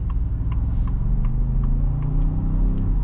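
Steady engine drone from a 2024 Ford F-150 Tremor pickup with an EcoBoost engine, heard from inside the cab during a smooth drive, a continuous low rumble with faint periodic ticks above it and no talking.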